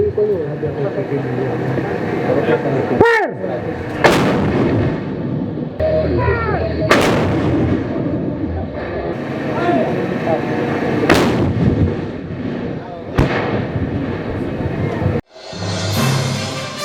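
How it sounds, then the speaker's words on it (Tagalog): Repeated booming army artillery cannon blasts at a military defense capability demonstration, roughly every few seconds, each a loud sharp crack with a rolling echo, over constant rumbling battle noise and voices. "Dumadagundong ang lakas ng pagpapaputok ng kanyon mula sa mga maartelyero ng hukbo"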